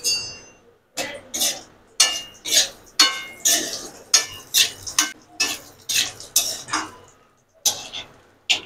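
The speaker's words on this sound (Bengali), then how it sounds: "তেল গরম হয়ে গেছে, প্রথমে আমরা বড়িগুলোকে ভেজে নেব।" Lentil dumplings (bori) fry in hot mustard oil in a kadai, heard as a series of short, sharp stirring clinks and bursts of sizzle, roughly one per second, close and clear.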